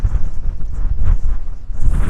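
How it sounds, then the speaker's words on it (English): Strong outback wind buffets the microphone along an old railway heritage trail in a continuous low rumbling roar with gusty surges, close and loud, no talking. "that wind is horrendous"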